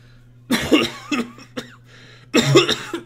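A voice imitates a cough, several short harsh bursts close to the listener with pauses between them, against a faint steady hum.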